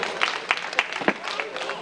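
Applause at a church gathering of a Nepali Christian federation comes as a faint, short burst of rhythmic clapping, with sharp claps spaced roughly every quarter second.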